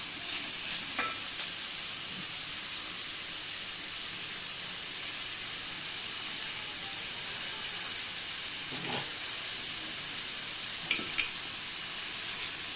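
Onions sautéing with curry leaves in a pan for a Kerala-style beef curry, a steady, fairly quiet sizzle and hiss with occasional scrapes and stirs of the spoon throughout, no voices.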